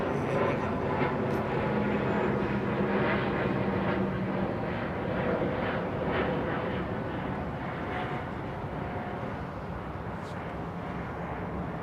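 A British Airways jet bound for Johannesburg takes off at full thrust, a loud, broad engine roar that holds steady and eases only slightly as the aircraft rolls away, with no talking.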